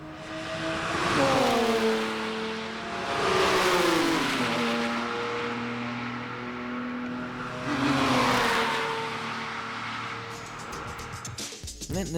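A Lamborghini V12 engine revving repeatedly, rising and falling in pitch in several long surges, loud and close, ending with a brief clatter.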